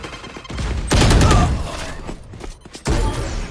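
Shotgun blasts boom in Valorant: a heavy close shot with a rumbling tail, then a second loud blast near the end, over faint game ambience.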